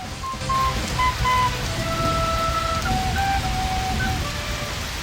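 Heavy rain pours steadily in an animated rainy-season scene, a dense even hiss with faint tonal background music lines running over it.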